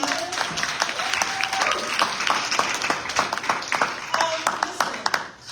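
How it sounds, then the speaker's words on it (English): An audience at a legislative breakfast during a gala weekend breaks into brisk, close clapping that fills a few seconds and tapers off quickly at the end. "So let's just clap on that."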